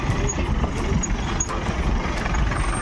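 A bus or truck engine idles steadily at a market stop in Pandhurli, a continuous low rumble with faint hiss and a few brief high squeaks on top.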